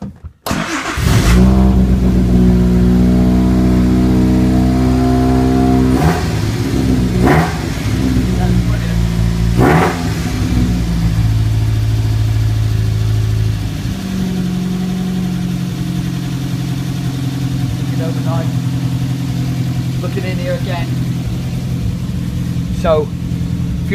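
A Triumph TR3A engine runs loud and close, with several sharp revs over a steady idle. Someone talks over the engine noise, and small clicks are heard near the end.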